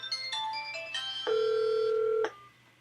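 A VoIP softphone call placed to another extension on a FreePBX system: a few short dialing beeps, then a steady electronic ring tone held for about a second before cutting off, fairly close and clean.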